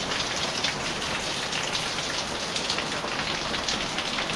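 Heavy rain pours down beside a waterfall in the Philippines in a dense, steady roar with no letup, loud and close throughout.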